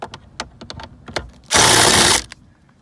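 A power tool works a bolt loose during 2016 Camaro speedometer removal: light clicks and taps, then a steady loud whirring burst of under a second, close by, followed by a few faint clicks.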